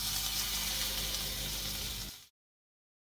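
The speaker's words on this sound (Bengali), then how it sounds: "এবার আমি মাছ ভাজার তেলে দিয়ে দিচ্ছি পেঁয়াজ" Onions and green chilies frying in oil left over from frying hilsa fish: a steady, close sizzle that holds for about two seconds and then abruptly cuts out to silence.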